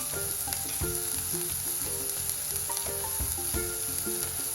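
Finely chopped onion and green chilli sauté in a hot pan with a steady, close sizzle and occasional stirring scrapes, while background music plays throughout.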